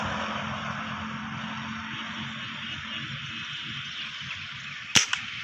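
A Diana 34 air rifle fires a single sharp shot at a dove outdoors, one crisp crack with a quick echo, set against steady background hiss and ambient noise.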